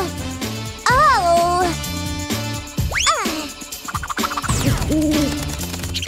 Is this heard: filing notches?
no